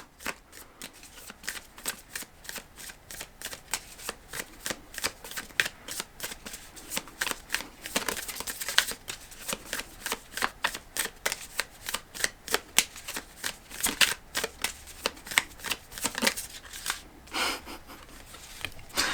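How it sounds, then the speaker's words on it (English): An Animal Apothecary oracle card deck being shuffled by hand, a long run of dense, crisp card riffles and flutters, close and fairly quiet, continuing steadily without talk. "I'm gonna pull one more card from this Animal Apothecary deck"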